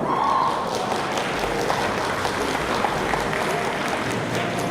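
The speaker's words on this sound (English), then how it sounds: "Please give him a round of applause." An audience at a 2017 tech festival panel on the future of content claps for the moderator, producing loud, continuous applause throughout with a few thumps and no talk.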